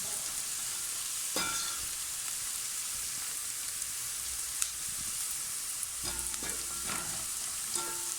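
Onions, almost completely brown, fry in a pot for beef pilau with a steady, even sizzle, broken by a few faint clicks and taps of stirring.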